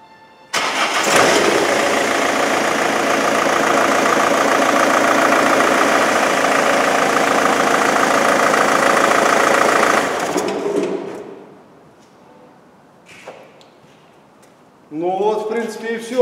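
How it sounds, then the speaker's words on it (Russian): A 1999 BMW 320D diesel engine cranks and catches after chain repair, then settles into a loud, steady clattering idle for about ten seconds before cutting off; someone speaks briefly afterward. "осталось нам только завести машину"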